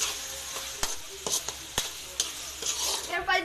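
A spoon stirs spaghetti sauce ingredients with hotdog, stock cube, salt and pepper in a sizzling pan, with steady frying hiss and several sharp scrapes and clacks against the pan.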